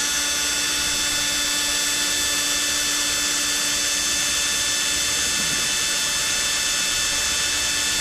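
A power drill with a long, skinny bit whines at a steady high pitch, running continuously without pause while drilling a pilot hole into a wooden model ship.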